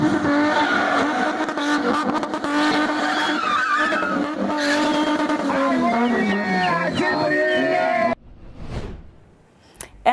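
Cars drift and spin at a family fun festival, with loud engine revving and sustained tire squeal over a crowd, then an abrupt drop to a brief whooshing pass near the end.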